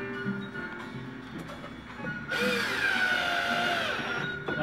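A power drill driving screws into redwood siding from the back side of the wood; the drill whines up loudly and continuously in the second half, close by, after a quieter lead-in with no talking.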